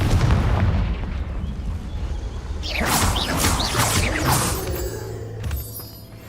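A Confringo fire spell goes off in the Hogwarts Legacy video game, a loud booming blast with crackling, shattering debris that rings out and slowly decays over a low rumble.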